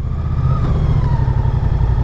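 Moto Guzzi Stelvio motorcycle engine idling at low speed near the clutch friction point, a loud, close, steady low throb with an even pulsing rhythm and no throttle blips.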